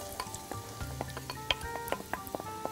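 Onion frying in oil in a pan for freekeh soup, a soft steady sizzle broken by scattered sharp crackles and pops, close and fairly quiet.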